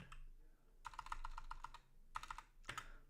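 Someone typing on a computer keyboard in quiet bursts of rapid clicking keystrokes with short pauses between them, faint and close, with no talking.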